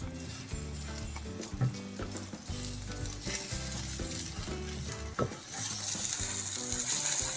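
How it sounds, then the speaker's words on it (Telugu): Mutton sherva fries in oil in a pot, giving a steady soft sizzle under regular scraping stirs of a ladle, fairly faint and close, with no voices. "ఈ నూనె తేలేదాకా ఇది వేయించుకోవాలి."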